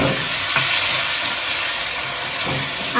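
Chopped tomatoes dropped into a pan of frying ginger for a vegetable dal, giving a loud, steady, broad sizzling hiss with a few faint stirring knocks, close by and with no talk.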